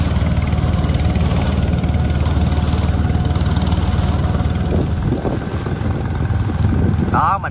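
Boat engines drone steadily on a river, a loud continuous rumble with wind buffeting the microphone and a brief rattle near the end.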